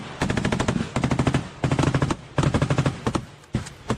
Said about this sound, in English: Machine guns laying down fire. It's actually an MG3 of all guns.